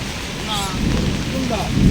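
Rain falls steadily at an outdoor cattle market, the Bosila cow haat in Mohammadpur, Dhaka, held before Qurbani. People talk under the rain in the brief, fairly loud wash.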